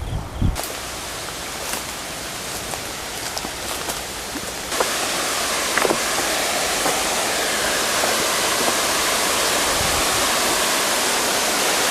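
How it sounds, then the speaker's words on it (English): Steady broadband rush of a waterfall in Hong Kong spilling into a lower pool, quieter at first then louder and fuller midway through, continuous with no voices. "some really, really pleasant waterfalls with a lovely lake"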